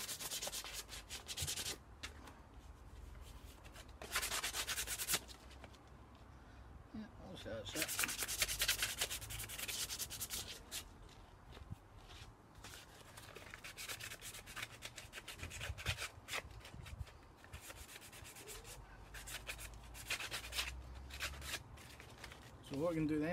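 Sandpaper rubbing over a Friday the 13th Tom Savini mask, a faint, close scratchy rasp coming in repeated bursts of strokes with pauses between them.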